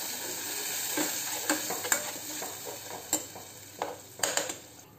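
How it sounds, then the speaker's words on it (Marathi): A spoon stirring curd mixed with salt and chili powder for kadhi, making soft, wet scraping swirls with light taps against the bowl over a steady faint hiss. "याला व्यवस्थित फिरवून घ्यायचं आपल्याला"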